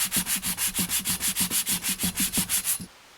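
Wooden chairs made from pallet wood are sanded by hand in fast, even back-and-forth strokes, about fourteen loud rasping passes close by, then a sudden stop into near silence.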